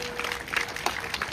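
A crowd at a political rally held by the LKP claps in a short burst of scattered, uneven applause at moderate volume.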